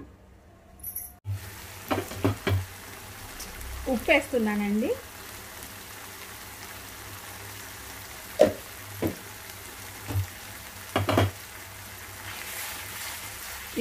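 Flat beans frying in a pan, a low steady sizzle with several sharp utensil knocks and scrapes, while a person talks briefly near the start.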